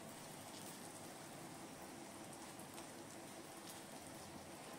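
Cashew nuts frying in two spoons of oil with tempered mustard seeds and chana dal, a steady, faint hiss and crackle filling the whole stretch without a break, no voices over it.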